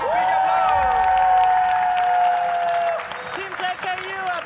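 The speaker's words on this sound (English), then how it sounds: "Team JKU, a big applause for our home team" Audience applause for the third-place home team at a university science contest awards ceremony, steady clapping and cheering over music with a sustained tone, thinning after about three seconds.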